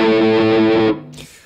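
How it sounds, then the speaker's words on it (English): An electric guitar played through a Stonk Box fuzz pedal rings out one thick, buzzing chord for under a second, then cuts off sharply, leaving only a short, faint tail. "let's go for some fuzzier sounds with a Stonk Box, and this sounds like this."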